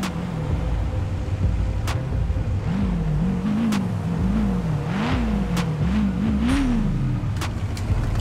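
A custom G20 van pulls up in GTA 5, its engine a steady low drone with a wavering, rising and falling rev, close and continuous, with faint clicks on top.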